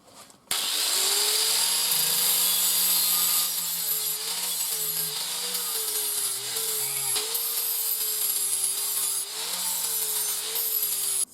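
Flap disc on an angle grinder stripping paint from a steel knife blade, a loud continuous whine starting abruptly and held close for several seconds, pitch dipping slightly as pressure varies, no talk.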